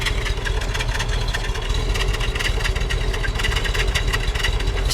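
Exhaust of a 1966 Buick Wildcat idling, a steady, close, low rumbling burble with a faint hum running through, constant and unbroken with no voices.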